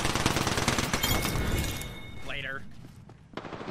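Gunfire striking a player's shield in an online battle royale shooter, heard as a dense burst of rapid shots and impacts followed by a sweeping electronic tone, loud and close under busy game sound.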